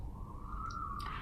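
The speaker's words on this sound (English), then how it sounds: "Sorry about that siren." Faint emergency siren wailing outside, a thin steady tone drifting slightly in pitch, distant and alone with no talk.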